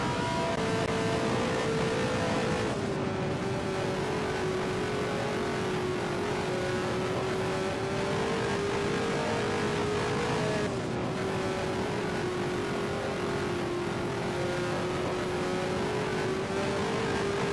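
Indianapolis 500 race cars on Goodyear tires battle in a racing video game, a sustained, loud engine whine that climbs and drops in pitch through gear changes, heard onboard with no talk.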